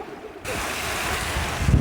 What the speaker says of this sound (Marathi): पाण्यात पाय टाकते